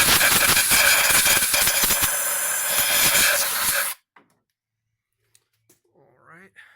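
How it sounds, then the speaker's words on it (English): Compressed air blasts loudly and steadily out of a spark plug well on an Acura RSX for about four seconds, then cuts off abruptly, leaving near silence with a few faint clicks and a brief voice. "the next step that I've seen people do, which seems like a good idea, is to blow some compressed air"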